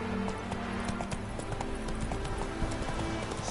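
Horse hooves clip-clop in a steady walking rhythm in The Witcher 3, continuous and close over a dense game background.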